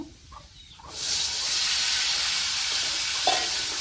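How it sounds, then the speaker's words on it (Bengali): Chopped onion hitting hot oil in a wok, a sudden loud sizzle that settles into a steady hissing fry, with faint stirring clinks. "কড়াইতে তো পেঁয়াজ কুচি দিয়ে দিছি, বাগার এসে পড়ছে"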